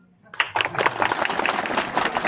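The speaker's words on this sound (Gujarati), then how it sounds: "તાળી પડો" Audience clapping at an Aam Aadmi Party membership rally in Gujarat, bursting in after a short quiet moment and continuing as steady, dense applause with some crowd noise.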